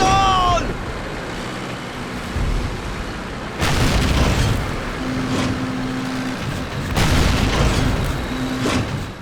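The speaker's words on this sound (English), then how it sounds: "I'm in a 100-ton war machine. Yes, I'm going to blow things up if you put them in front of me." Tank explosions in a Call of Duty game, several heavy booming blasts over a constant low rumble of engine and battle noise, with a tone cutting in and out between them.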